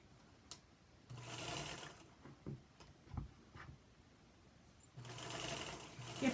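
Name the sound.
sewing machine stitching a quarter-inch seam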